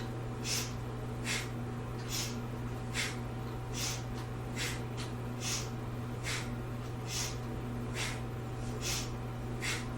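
Rapid belly-pumping breath exercise, about a dozen short forceful nasal exhalations in a steady rhythm over a constant low hum, with no talking.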